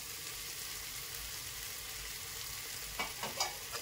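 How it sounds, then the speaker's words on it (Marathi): Curry leaves drop into hot oil for khichdi, bringing a steady fry hiss that flares into a brief crackling sizzle with a few sharp pops toward the end. "त्यानंतर त्याच्यामध्ये टाकूया आपण कढीपत्ता।"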